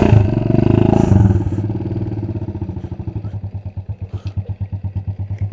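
A 50cc motorcycle engine idles close by, starting with a heavier throb that settles into a steady, rapid putter which grows more distinctly pulsed toward the end, with no talk over it.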